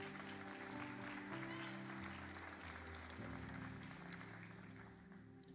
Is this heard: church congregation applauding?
yes